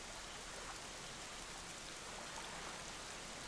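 Rain falls steadily on a cursed island in The Legend of Zelda: The Wind Waker HD, a soft, even hiss of downpour that stays constant and fairly faint, with no voices.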